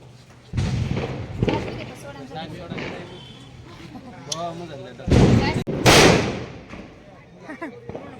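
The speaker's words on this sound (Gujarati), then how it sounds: "આપણે મેદાનમાં જ ફટાકડા ફોડવા આવતા લાગે છે" Firecrackers burst on an open ground, several loud sharp cracks and booms spread across the stretch, with people talking between and around them.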